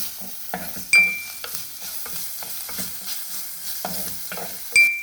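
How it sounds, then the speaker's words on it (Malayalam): Prawn masala sautés in a pan with green chilies and ginger garlic paste. A steady sizzle carries soft scraping stirs and two sharp utensil clinks against the pan. "2 പച്ചമുളക്, അതേപോലെ ഇഞ്ചി വെളുത്തുള്ളി പേസ്റ്റ് 1 ടീസ്പൂൺ, അതും കൂടെ ചേർത്തിട്ട് വഴറ്റിയെടുക്കാം."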